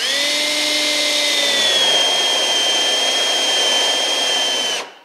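A spade bit in a power drill bores into a wooden chair seat, giving a steady high-pitched whine that holds for about five seconds and then cuts off abruptly. No one speaks.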